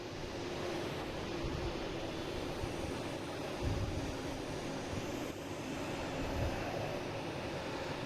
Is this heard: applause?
no